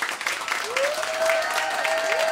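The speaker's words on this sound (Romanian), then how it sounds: "sper că nu vă dor palmele să-i mai aplaudați și pe colegii mei" A studio audience claps in a dense, steady round of applause at a Romanian talk show taping, with a faint tonal sound running underneath.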